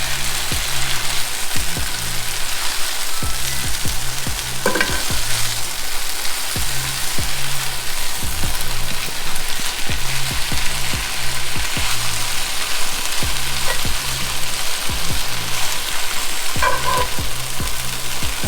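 Oong choy cooks in a hot pan with a loud, steady sizzle, punctuated by regular scraping and tapping strokes of a utensil stirring the greens.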